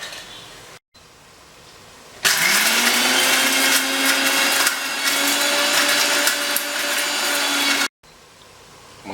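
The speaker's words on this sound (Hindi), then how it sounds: "हमने जो ये मसाला रोस्ट किया था इसे पीस लेते हैं।" Kitchen blender grinding cooled roasted masala spices for a Mughlai chicken curry, starting with a rising whine and running as a loud, steady grinding roar for about six seconds before cutting off.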